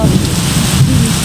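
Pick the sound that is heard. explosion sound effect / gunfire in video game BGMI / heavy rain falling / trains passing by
heavy rain falling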